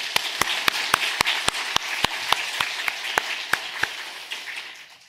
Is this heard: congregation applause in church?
yes